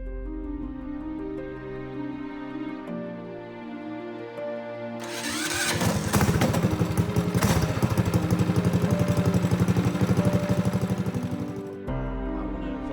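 A Predator small engine fitted to a fat tire bike fires up on its electric starter around the halfway mark and runs loud and steady for several seconds before cutting out, following a quieter stretch with a tonal hum.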